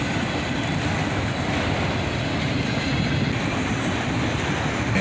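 Freight train of autorack cars passing nearby, a loud unbroken rumble of wheels on track with light clatter and a touch of squeal, no voices.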